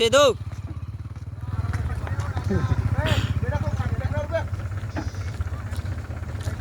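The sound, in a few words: tractor engine running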